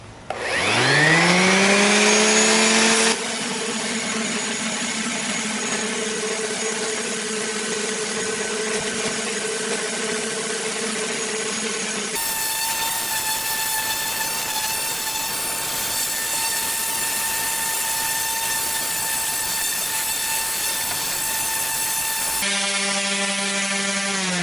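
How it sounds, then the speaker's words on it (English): A sanding machine fitted with 80-grit paper works over a wooden garden hoe handle, giving a steady, loud mechanical whine that shifts pitch as the load changes, running continuously with no talking. "I am using 80 grit on this sanding machine here"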